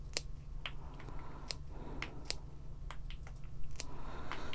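Small clicks of pruning shears snipping bud stems off a poinsettia plant, several sharp close cuts spaced irregularly over a quiet background.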